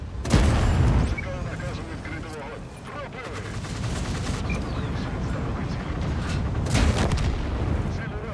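Heavy artillery impacts a tank in World of Tanks: a loud close boom opens, a rumbling battle din follows, and a second blast comes near the end.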